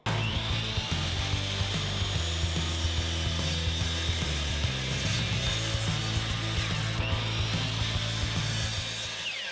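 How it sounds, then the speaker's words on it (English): A miter saw cuts through a wooden piece being trimmed for trays, a steady loud mechanical whir and rasp sustained for several seconds, with no talking. "And we're going to head to the miter saw."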